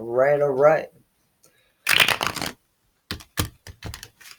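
Tarot cards are riffled and shuffled in quick, crisp bursts and snaps up close, following a brief vocal sound at the start.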